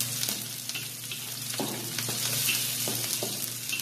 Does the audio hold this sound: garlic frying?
yes